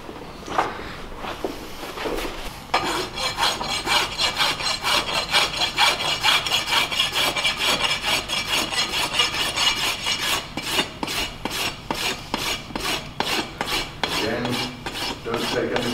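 A rasp is drawn over a horse's hoof wall during trimming, making steady rhythmic scraping strokes close to the listener that repeat quickly and evenly for the whole stretch.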